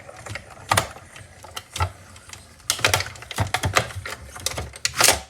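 Die-cutting machine being hand-cranked to cut letters for a Christmas craft, a close series of clicking, ratcheting mechanical bursts in an uneven rhythm, with no talking.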